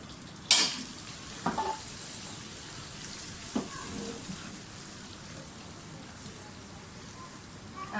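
Marinated chicken with cumin fries in a pan, a soft steady sizzle with a few sharp utensil clinks and scraping stirs early on, close and fairly quiet.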